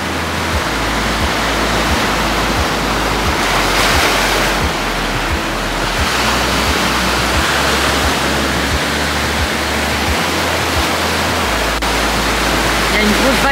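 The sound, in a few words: ocean waves crashing on rocks, Tenerife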